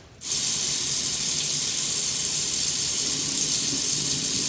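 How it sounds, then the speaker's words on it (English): Bacon grease being drained from a pan pours in a steady, loud hissing stream that starts abruptly and runs without a break. No voices are heard. "I'm just going to drain that grease and then go from there."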